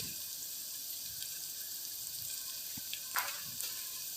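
Whole spices, including bay leaf, cardamom, cloves and shahjeera, fry in hot oil with a continuous soft hiss and a few faint stirring clicks.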